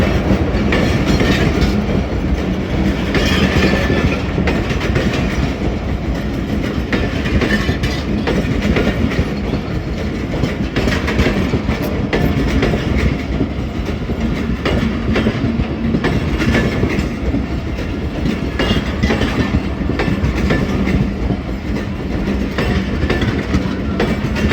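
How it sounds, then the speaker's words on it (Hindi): Hazara Express passenger train pulling into a station, loud and steady throughout with continuous rumbling wheels and clickety-clack on the rails, heard up close with no break. "एट 8034 के साथ 12 डाउन हज़ारा एक्सप्रेस का अराइवल हो रहा है"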